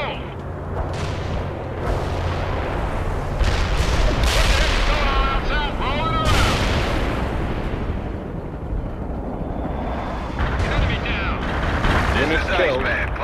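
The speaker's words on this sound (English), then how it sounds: "Cluster bomb hit with low effect" Cluster bomb air strike in the World in Conflict video game, a dense, sustained barrage of booming blasts and crackling impacts rolling across the battlefield, loud and continuous, with voices and radio chatter layered over it.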